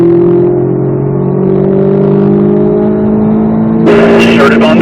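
A Corvette Z06 engine drones steadily at high revs during a lap of a race track at a driving school. The tone climbs slightly before a sharp clattering burst near the end.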